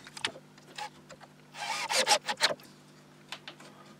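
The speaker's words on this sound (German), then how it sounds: "das schrauben wir dann einfach mal hier an" Screws being driven through pre-drilled, countersunk holes to fasten a wooden board onto a drill stand: scattered short scraping and rubbing bursts with a louder cluster of grinding turns in the middle, close and alone.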